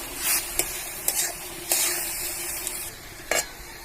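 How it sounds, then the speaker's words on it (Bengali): Cabbage curry being stirred in a frying pan, a steady sizzle with several sharp scraping strokes of the spoon, close and fairly loud, no voices. "এরপর ভালোভাবে নাড়াচাড়া করে নেবো।"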